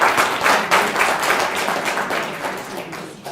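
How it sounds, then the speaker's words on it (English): A crowd at an African Renaissance Unity political meeting claps steadily and loudly, a dense wash of hands sustained for a few seconds with slight surges, no talking over it. "I would like to give a round of applause"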